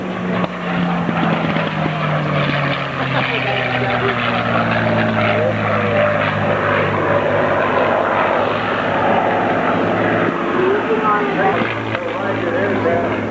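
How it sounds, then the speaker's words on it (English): A T-51 propeller aircraft flies at the EAA Oshkosh 2009 airshow, its engine a continuous, loud, droning buzz with shifting pitch as it passes, with commentary mixed in. "Here we see another T-51 popping up out of position."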